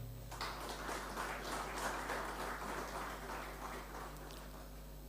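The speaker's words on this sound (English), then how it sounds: "Ladies and gentlemen, please give them a round of applause" Audience members clap at a felicitation ceremony honouring top achievers, a moderate, continuous patter over a steady low electrical hum, heard from a distance in a hall.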